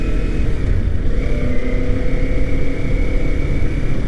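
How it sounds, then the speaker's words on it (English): Kawasaki Ninja 400 ridden on the road, its engine droning loud and steady with wind rush and a shifting engine pitch through a downshift, heard up close from the rider's position. "That was kind of a good downshift."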